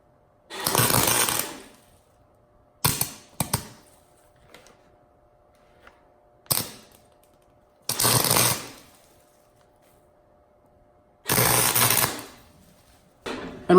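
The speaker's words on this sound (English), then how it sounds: "We're going to weld the base back to the body." A welder joins the base back to the body of a Johnny Lightning diecast Christine movie car, sounding as several loud bursts of harsh crackling buzz separated by quiet gaps over a faint steady hum.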